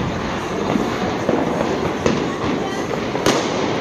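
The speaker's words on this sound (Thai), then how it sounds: "ประทัดอันตรายมากเลยนะ" Firecrackers go off in a crowded street in Erfurt, Germany, with sharp loud bangs standing out above a dense crackling, noisy background, and voices can be heard among the racket.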